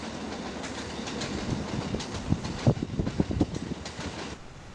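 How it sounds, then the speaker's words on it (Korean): An electric train rumbles through Tsuruhashi station, where JR and Kintetsu lines cross, a loud steady roar with rhythmic wheel clatter building and thumping over rail joints before easing off. "전철이 교차하는 쯔루아시역"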